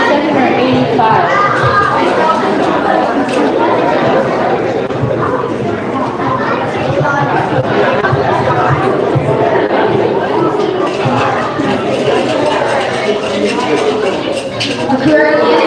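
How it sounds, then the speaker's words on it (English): A dense, loud crowd of excited children and adults at a religious celebration quiz, with overlapping shouting and chatter sustained throughout without a break. "I think the crowd is pretty excited."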